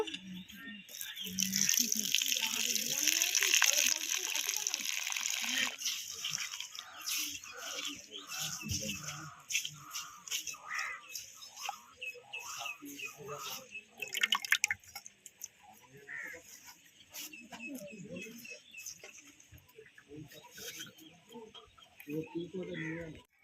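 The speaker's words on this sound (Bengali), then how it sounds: "পাতাগুলো জল দিয়ে ধুয়ে নেব" Leaves being washed with water by hand, with close splashing and trickling that is busiest at first, then thinner drips and sloshes, under occasional voices and faint background birds.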